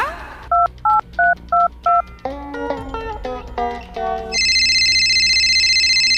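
A phone is dialed: a string of short keypad tones, then quicker tone sequences, followed by a steady electronic ringing tone, loud and close.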